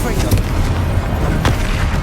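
A Confringo explosive spell blasts in Hogwarts Legacy, with heavy low booms and bursts over dense game combat noise. A sharp impact lands near the middle.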